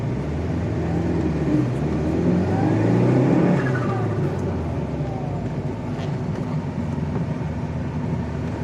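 A 1987 Chrysler Conquest TSi turbo on a test drive, heard from inside as a steady engine drone with road rumble and a brief swell in revs, continuous and moderately loud.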